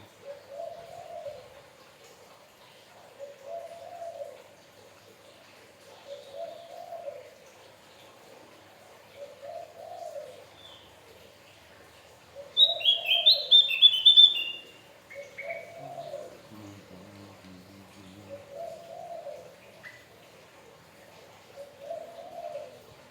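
A Javan white-eye (opior jawa) at night gives one short, loud burst of high twittering song, while a soft, low cooing repeats steadily every couple of seconds behind it.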